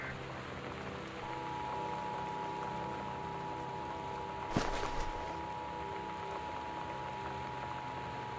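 Steady rain storm in the video game Gone Home, a constant soft wash of falling rain with a brief louder crackle midway, heard alone under a faint steady tone.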